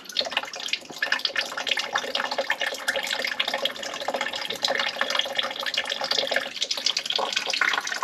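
Water runs steadily from a GE water softener with low backwash flow, a constant close rushing splash with faint gurgles throughout.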